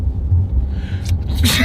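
A person sneezes once, a sharp burst near the end over a steady low rumble, with a gasp-like intake just before it.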